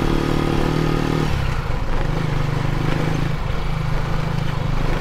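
A motorcycle trike climbs a road in the Philippines, its engine droning loud and steady throughout with a shift in pitch partway, accompanied by light clatter from the body.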